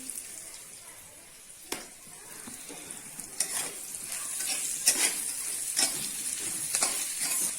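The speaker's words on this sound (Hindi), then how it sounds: "प्याज, लहसुन और हरी मिर्च को फ्राई करने के बाद नमक डालूंगी।" Onion, garlic and green chili frying in a pan, a continuous sizzle with repeated scraping stirs and utensil clinks, close and moderately loud with no talk.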